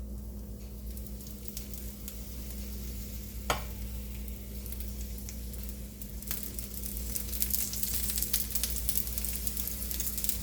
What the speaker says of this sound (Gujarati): આ રીતે તેની પર આપણે તેલ નાખી દઈશું.